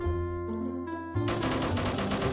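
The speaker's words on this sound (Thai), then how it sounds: "ปืน 45 นัดนะครับผมนะ อัตราการลั่นกระสุนระดับ กลางๆ นะ ไม่ ไม่ได้ลั่นเร็วอะไรมากนะ" Battle cruiser deck gun firing in Roblox Military Tycoon, a humming tone giving way to a rapid, even stream of shots for over a second, close and loud.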